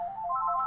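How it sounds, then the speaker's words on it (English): A telephone rings with a steady electronic warble, close and clear, sounding alone with no talk over it. "And there's the phone."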